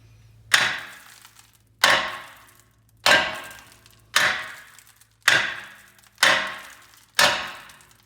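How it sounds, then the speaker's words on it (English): Seven evenly spaced hammer blows on a car's brake rotor to free it from the hub, each a sharp metallic clang with a ringing decay, struck about once a second, close and loud over a faint low hum. "So I'm gonna get to hammering."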